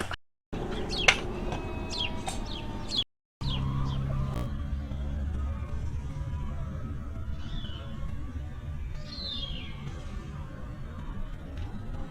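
Chickens cluck and chirp intermittently close by, with short calls scattered over a quiet outdoor background.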